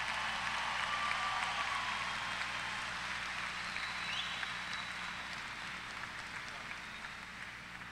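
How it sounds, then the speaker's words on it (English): Graduates, families and guests applaud at a Texas A&M–Corpus Christi spring commencement ceremony, a soft, distant, even patter of clapping that fades slowly with no talk over it. "Applaud, please."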